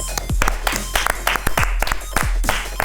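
Studio audience clapping on a comedy video-game panel show, sparse and uneven individual claps with strong low thumps, mixed with voices talking and laughing nearby.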